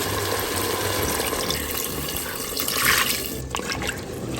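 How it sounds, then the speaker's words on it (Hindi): Water poured into a pot of browned potatoes and mutton to make broth, a steady splashing, gurgling pour that swells briefly near the end, close by with no talk. "अब आप इसमें अपने पानी इतना शामिल करें जितना कि आपने इसमें शोरबा रखना है।"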